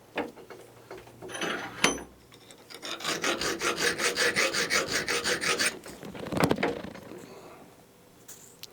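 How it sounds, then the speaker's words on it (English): A hand file rasps across the steel backing of a brake block for a 5-inch gauge railway trolley, a close run of steady, rhythmic scraping strokes bracketed by clunks and handling knocks. "I filed and sawed this off"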